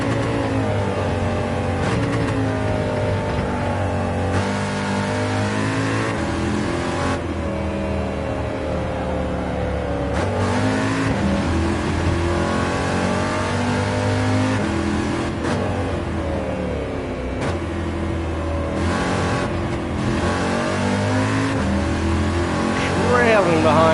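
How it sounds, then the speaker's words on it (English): In Gran Turismo 7, a car engine screams at high RPM, a loud continuous rev climbing and dropping through repeated gear changes, heard close up for the whole stretch. "just making all its power in the top end, in the high RPM range."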